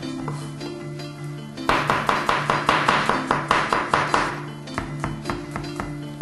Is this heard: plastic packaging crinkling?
no